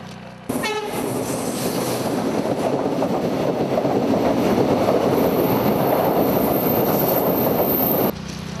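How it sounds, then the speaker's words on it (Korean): A train rumbles past steadily and loudly, with rhythmic clattering over worn rail joints, starting abruptly after a brief quiet moment and continuing for several seconds. "열차가 이곳을 지날 때마다 덜컹거리는 소음을 발생시켜"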